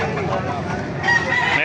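A White Kelso rooster crows at a busy Bulacan poultry market. The crow comes through loud and close over steady crowd noise and chatter.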